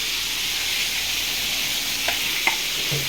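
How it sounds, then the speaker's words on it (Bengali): Chicken frying in a pan at an outdoor picnic, a steady hissing sizzle throughout with a couple of faint clicks near the end and no talking. "এখানে দেখো চিকেন ভাজা হয়ে যাচ্ছে মোটামুটি"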